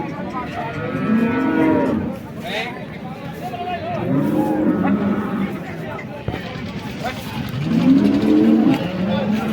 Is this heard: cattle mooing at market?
yes